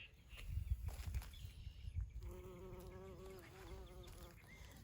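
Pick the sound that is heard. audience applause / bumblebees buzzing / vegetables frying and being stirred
bumblebees buzzing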